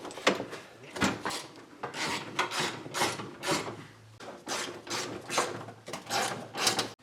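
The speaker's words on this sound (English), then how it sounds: "Now I'm going to tighten down the straps." Ratchet straps being cranked tight during an LS engine swap, a close, loud run of repeated clicking ratchet strokes in uneven bursts with short pauses between them.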